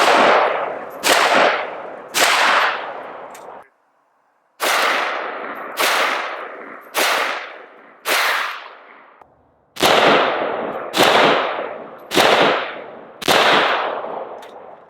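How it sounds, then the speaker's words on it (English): An AK-47 fitted with a standard slant muzzle brake fires Red Army standard ammunition outdoors, about a dozen loud, sharp single shots at an uneven pace, each trailing into a long echoing decay, with no talking. "Red Army standard ammo with the standard slant brake"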